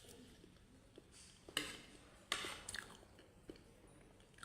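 Soft, close chewing of a banana, with a few sharper wet bites and squishy mouth sounds at irregular intervals over quiet room tone.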